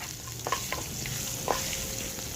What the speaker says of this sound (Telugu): పచ్చిమిరపకాయలు మనం తగ్గించుకునే కదా వేసుకున్నాము కాబట్టి ఇవి బాగా ఏగుతున్నాయి చూడండి